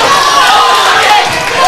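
A crowd at a boxing club home show cheers loudly and steadily, a dense roar of voices filling the space without breaks.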